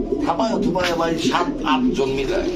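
Pigeons of fancy breeds such as Pakistani Teddy, Lahori and Giribaz coo at a bird sale, repeated soft throaty coos close by, mixed with a low background of people talking.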